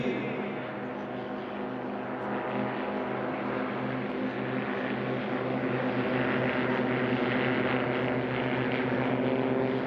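Propeller engines of STOL aircraft in a drag race roar loud and continuous, a steady droning buzz that swells slightly as they run.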